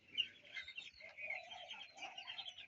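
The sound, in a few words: broiler chickens clucking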